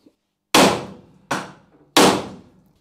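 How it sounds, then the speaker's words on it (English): A hammer strikes a metal tool post mount piece, drilled around all four sides, to knock it free on a mini lathe project: three sharp, loud metallic bangs, each with a short ringing decay, spaced unevenly in quick succession. "hopefully that's weakened enough to just bash it off"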